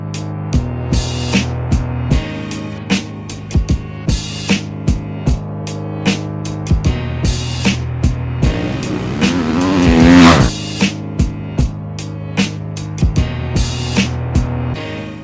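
Christophe Pourcel's factory Rockstar Husqvarna 2015 FC450 race motorcycle being ridden, its engine loud and close, pulsing in regular bursts as the throttle opens and closes, swelling to a stronger rev midway.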